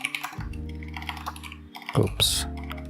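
Computer keyboard typing while coding a Golang restaurant management backend, irregular clicks and key taps with a low hum underneath and a louder burst near the end.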